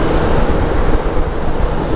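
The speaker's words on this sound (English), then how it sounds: "Damn, that's windy." Strong wind blows across a desolate open landscape in the Midwest, a loud, steady roar that buffets the microphone from start to finish with no voices.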